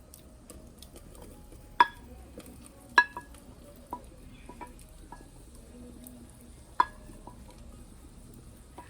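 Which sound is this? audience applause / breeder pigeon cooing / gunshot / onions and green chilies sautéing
onions and green chilies sautéing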